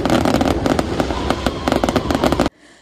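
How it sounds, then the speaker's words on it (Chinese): Fireworks on Qixi night in Keelung, Taiwan: a dense, continuous barrage of loud crackling bursts and pops at close range, ending abruptly into a quieter background hum. "加上七夕夜晚的浪漫烟火"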